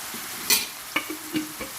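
Qeema with methi and garam masala being stirred and fried in a pan; soft sizzling background with a few scraping stirs of a spoon against the pan, near and moderately quiet.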